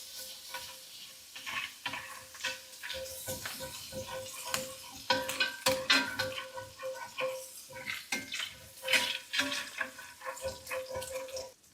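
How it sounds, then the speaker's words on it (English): Butter sizzling in hamburger patty drippings in a pan, a steady close crackle and hiss broken by repeated stirring and scraping over roughly twelve seconds. "you're going to add 1 tablespoon of butter to your drippings"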